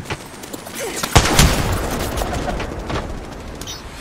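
Rapid gunfire from Apex Legends, dense overlapping shots with a heavy burst early on, then sustained crackling fire and impacts continuing loudly throughout, with no talking.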